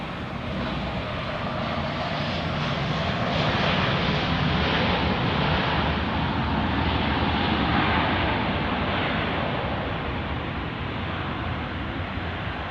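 Southwest airliner taking off from runway 31 at Dallas Love Field during a thunderstorm, a loud, steady broadband jet roar swelling slightly in the middle and sustained throughout.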